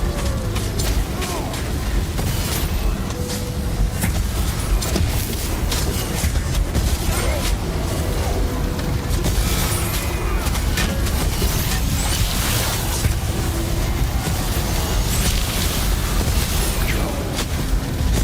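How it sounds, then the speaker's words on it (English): Exploding bodies in the Ghost of Tsushima Legends video game, with dense, continuous booming blasts and crackling combat noise filling the mix at high level, while players talk over it. "These bodies are exploding."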